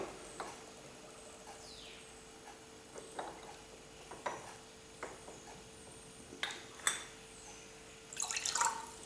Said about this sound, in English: Now some water has spilled